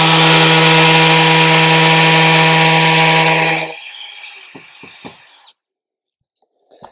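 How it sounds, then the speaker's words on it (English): A loud hammer drill, set to hammer mode, hums with a strong steady drone for several seconds, then stops, leaving faint clicks and scraping sounds before silence. "if you've got hammer on your drill, use it"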